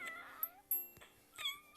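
Cartoon cat meowing in the video game Miga World, several short synthesized meows with gliding pitch, each separated by brief pauses, fairly quiet and heard alone without talk.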